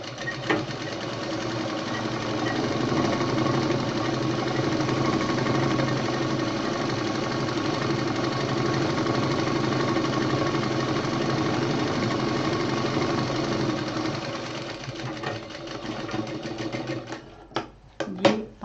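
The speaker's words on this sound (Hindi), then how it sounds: "दोनों किनारे इसके हम सिल लेंगे।" A sewing machine runs steadily for about fifteen seconds, stitching down both edges of a folded five-inch fabric strip for a hanging pouch, then slows into a few short bursts and stops, with no talking.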